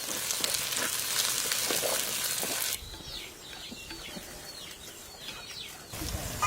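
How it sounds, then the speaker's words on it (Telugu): Ginger paste and tomatoes hit hot oil with curry leaves, a loud hissing sizzle that drops to a softer bubbling fry with light stirring scrapes, then flares up again at the end. "అల్లం పేస్టు, వెంటనే టమాటాలు వేసుకుని బాగా కలుపుకుందాం"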